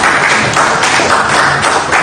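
Steady, dense applause from a crowd, a loud continuous patter of clapping hands with no voices over it.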